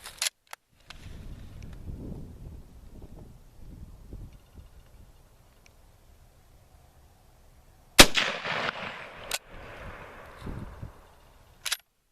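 A Lee Enfield SMLE No1 Mk3 bolt-action rifle fires outdoors, with one loud sharp crack ringing out after a stretch of quiet rustling, plus a few other sharp clicks and reports near the start and end.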